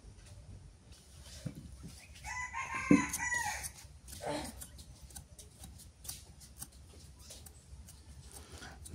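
Rooster crowing once around the middle, with scattered chicken clucks in a village yard, moderately near, amid faint background talk and rustling.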